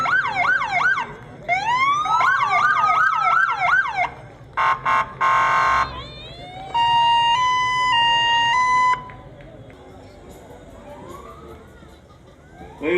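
Ambulance siren from a Medic Ambulance Service vehicle in a Veteran's Day parade, cycling through wailing, yelping and steady tones in loud bursts with short gaps, close by.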